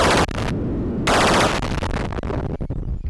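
Smart bombs go off in a Stargate arcade game running on a repaired board, loud crackling bursts of electronic explosion noise with a short lull, then a rapid rattle of blasts, with no talking.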